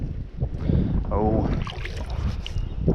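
Strong gusty wind beside a creek buffets the microphone with continuous low rumbling roar, loud and close, while someone speaks over it.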